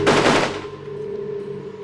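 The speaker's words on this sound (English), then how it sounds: "the rebels stage an ambush on an army patrol. As the first shots ring out, Che is face to face with the enemy." Gunfire in a rebel ambush of an army patrol, a loud burst of rapid shots at the start that gives way to a fading, droning echo.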